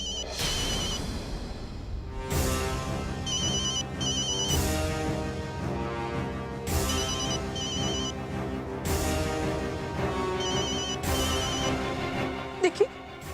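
A telephone rings repeatedly in a home during a family drama, its electronic bell pattern recurring every couple of seconds under a steady musical soundtrack, with a brief voice near the end.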